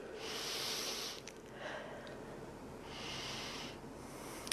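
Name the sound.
deep breathing during a yoga warrior pose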